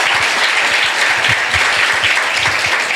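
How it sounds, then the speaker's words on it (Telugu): A church congregation claps loudly and continuously in praise, a dense, even burst of applause close to the listener with no pause. "నమ్మిన వారు గట్టిగా చప్పట్లు కొడుతూ దేవుని మహిమ."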